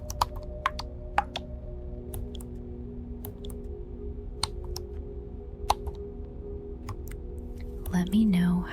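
Soft, close keyboard typing in a quiet ASMR setting, with scattered light key clicks over a low hum and a brief faint voice near the end.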